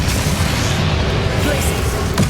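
Bombarda spell blasts in the Hogwarts Legacy video game, a dense, loud rumbling wash of booming impacts sustained throughout, with a sharper burst near the end.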